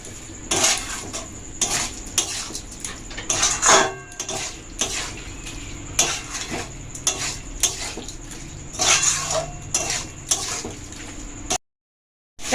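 A spoon stirs chicken with garam masala in a metal pan, giving repeated close scraping and clinking strokes over a low sizzle and wet frying sounds, no voices, ending in a brief silence.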